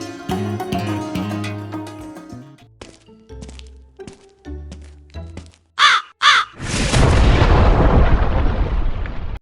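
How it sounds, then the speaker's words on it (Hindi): In a cartoon, a crow caws in a series of harsh, loud, repeated calls, followed by sharp cracks and a sudden roaring burst of noise. "ये आपके मुंह से कौवे की आवाज कैसे आ रही है?"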